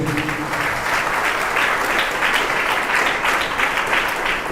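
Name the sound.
congregation clapping loudly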